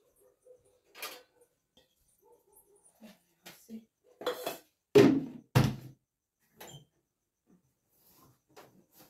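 A steel thali is picked up and set down at a simple home meal, giving a few sharp metallic clanks and knocks in a cluster, with softer scattered taps in an otherwise quiet room.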